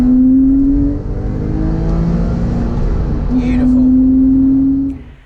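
A Porsche 996 Carrera 4S with its 3.6-litre M96 flat-six drives along. The engine drones loud and steady, with a sustained tone that fades midway, returns strongly and then drops away at the end.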